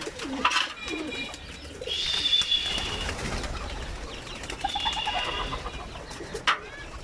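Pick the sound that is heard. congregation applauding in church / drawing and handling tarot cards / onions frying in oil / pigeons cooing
pigeons cooing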